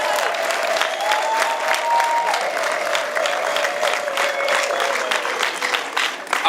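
A crowd at a wedding celebration applauds, dense continuous clapping that holds steady throughout, with a faint voice or tone rising underneath.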